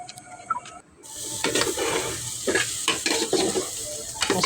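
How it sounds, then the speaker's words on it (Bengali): A spoon stirs beef masala with rice and salt in a pot for beef bhuna khichuri. Steady sizzling frying runs under repeated scraping stir strokes after a quieter opening second. "মাংস থেকে কিছু মশলা নিয়ে নেড়ে চেড়ে ভালোভাবে কষিয়ে নেব।"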